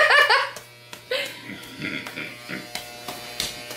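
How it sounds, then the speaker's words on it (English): An electric razor shaves off a head of hair, its steady buzz running close and continuous while laughter and chatter break over it. "Now you gotta shave it."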